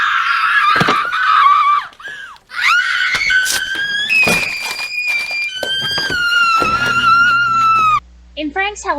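Benson from the cartoon Regular Show yells in frustration, a loud, strained shout with wavering pitch that rises and falls across several sustained bursts, mixed with clattering effects and a thud near the end.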